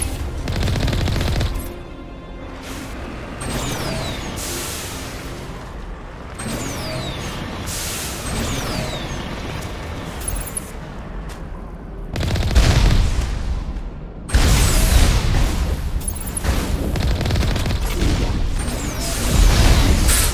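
Rapid gunfire from Mass Effect 1 Legendary Edition, with bursts of automatic weapon fire and impacts layered over a steady game soundscape, growing louder and denser in the later half.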